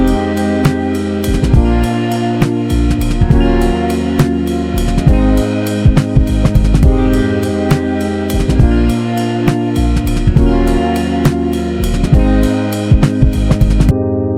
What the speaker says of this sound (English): The bass that I use is called 808 head explosion bass,